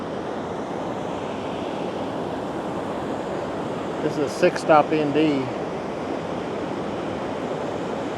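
Steady, loud rushing water from a waterfall fills the scene throughout, with a person speaking briefly in the middle.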